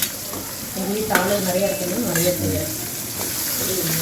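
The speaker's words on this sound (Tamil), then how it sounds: "வெங்காயம் போடுறேன் வெங்காயம் கார குழக்கட்டைக்கு" Onions sizzling in hot oil in a pan while being stirred for savory kozhukattai, a steady crackling fry with scraping stirs and faint clinks, close and moderately loud.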